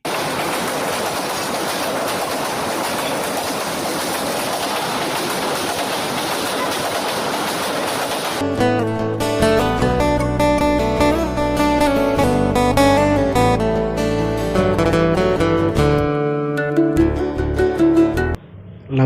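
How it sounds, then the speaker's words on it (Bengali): A train runs along a railway line beside a national park near Sreemangal, making a loud, steady rumbling roar for about eight seconds before music takes over the rest of the clip. "ভাগ্যক্রমে রেল লাইনে ট্রেনের দেখা পেয়ে যাই"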